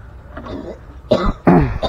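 Two harsh coughs ring out close by, one after another, over a low steady background hum.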